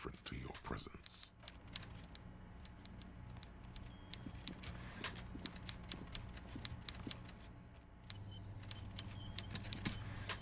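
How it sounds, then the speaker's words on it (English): Typewriter clattering in the Disco Elysium video game, a rapid, uneven run of sharp key strikes over a low room hum, fairly quiet and steady throughout. "Everard Clare clatters away on his typewriter"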